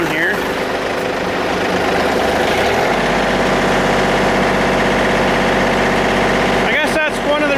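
A tractor engine running, steadily idling and then held at a somewhat faster speed for the hydraulics, with a loud, continuous low rumble close by and a brief disturbance near the end.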